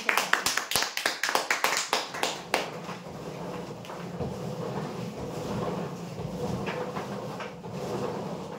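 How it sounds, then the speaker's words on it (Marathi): Applause for a prize-draw winner of a computer table at a weekly customer lucky draw: a burst of sharp, fairly loud claps in an uneven rhythm for about two and a half seconds, then fading into room murmur and background noise. "जोरदार टाळ्या होते."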